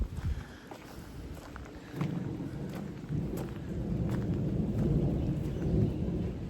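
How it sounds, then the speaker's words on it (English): Low rumbling thunder from a passing storm rolls on in the distance, a steady broad roar that swells slightly toward the end, with a light breeze and no talking. "Thunder's still going there"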